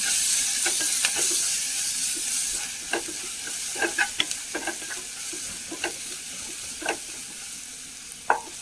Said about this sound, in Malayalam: മുളക് പൊടി ഇട്ടു ശകലം ഗരം മസാല അതും കൂടി ഇട്ട് കൊടുക്കാം നന്നായി ഇളക്കി കൊടുക്കാം